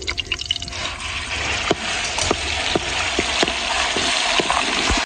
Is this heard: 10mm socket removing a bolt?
no